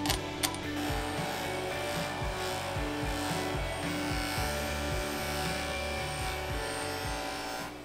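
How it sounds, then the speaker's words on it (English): Motorcycle pedal from an RM250 rebuild polished on a fine wheel, a steady continuous whirring hum with rubbing, grinding texture throughout, close and even, with a brief sharper contact near the start and no talking. "Got the pedal all smoothed out. Just gonna take it to the next step with the fine wheel."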